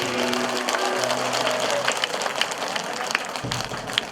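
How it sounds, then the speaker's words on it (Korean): Audience applause for a lecturer at a Korean unification talk: steady, dense clapping from a crowd indoors, fairly close and loud, with faint tonal hum running underneath throughout. "다시 한번 큰 박수 부탁드리겠습니다"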